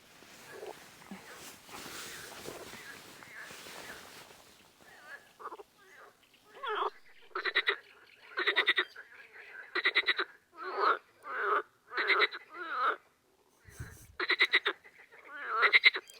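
Toads croak during mating season at a lake, giving loud, rhythmic pulsed calls in a steady series that starts after an opening stretch of rustling noise. Several calls overlap, and a brief low thump interrupts them.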